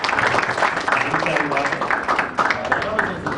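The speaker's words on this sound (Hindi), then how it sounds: "कामेश्वर का तालियों से स्वागत" An audience at a business etiquette training session applauds to welcome a guest, a dense continuous wash of clapping with some voices mixed in.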